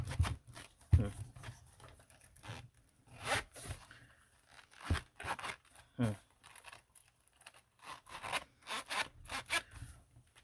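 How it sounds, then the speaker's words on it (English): A zipper on a planner rasps repeatedly in short tugs and longer pulls, with fabric rustling and scraping close by; no clear talking. "Okay, finally zipped back up."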